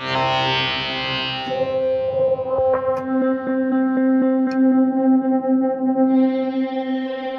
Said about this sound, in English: a whole bunch of pads across the blue keyboard.